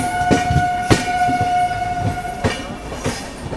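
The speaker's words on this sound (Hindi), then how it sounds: "अपनी गाड़ी जो है वो हजरत निजामुद्दीन रेलवे स्टेशन पहुंच रही है" A Rajdhani Express train pulls into Hazrat Nizamuddin railway station, with loud rumbling and clattering wagons, a sustained horn tone and repeated sharp clanks at irregular intervals.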